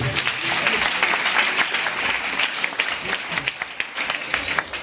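A church congregation applauds the Lord in a steady, loud wash of clapping that continues throughout, with voices mixed into it.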